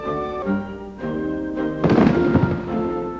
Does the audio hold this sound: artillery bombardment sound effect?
yes